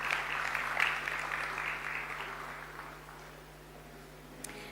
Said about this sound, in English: A warm round of applause as we welcome him